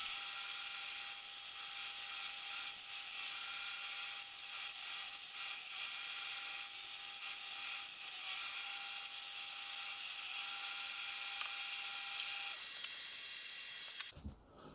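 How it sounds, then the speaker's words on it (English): A drill press fitted with a 20mm Forstner bit bores holes through wood into a backing board. The motor gives a steady high whine that runs almost continuously for about fourteen seconds before stopping abruptly. "to the drill press, where with a 20mm Forstner bit and a backing board I drill the holes."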